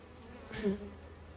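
Honeybees buzzing around an open hive during an inspection before winter, a soft steady hum with one bee swelling briefly louder as it passes close.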